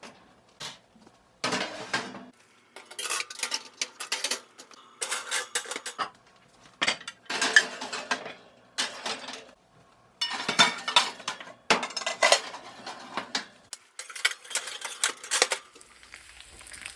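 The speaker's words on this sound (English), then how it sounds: "since I did take the pots and pans out, I went through them and going to put them back in a more organized way" Pots and pans clatter and clink as they are sorted and stacked back into kitchen cabinets, bursts of metallic knocking and scraping coming in close, irregular clusters separated by brief pauses.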